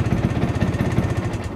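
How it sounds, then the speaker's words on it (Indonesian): A Vespa Sprint Bagol 75 scooter engine idles smoothly and close by, with a steady low, pulsing putter that holds an even rhythm and no other sounds. "Jadi memang sprint bagol ini salah satu Vespa dengan mesin terhalus."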